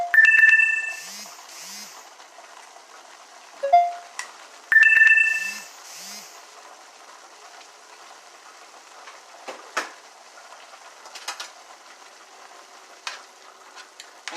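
A phone rings in a home kitchen, two loud bursts of electronic ringing a few seconds apart, with soft sizzling of squash cooking and clatter in the background.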